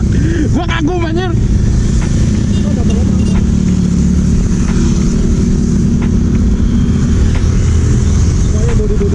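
A motorcycle still running after a crash hums with a steady, loud engine drone while the rider is on the move, with wind noise and brief voices over it.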